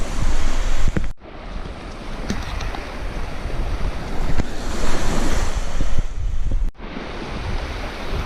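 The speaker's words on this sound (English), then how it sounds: "The only thing I can hear is the sound of the water crashing into the sand." Waves on a Lake Michigan beach wash up onto the sandy shore in a loud, continuous rushing surge, with gusts of wind buffeting the microphone and two abrupt dips in the sound.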